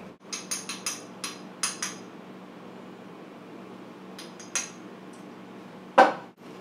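A utensil clinking and tapping against a bowl while fish taco marinade of jalapeno, lime juice, chili powder and cumin is mixed, a quick run of light metallic taps, a pause, then a few more and one louder knock.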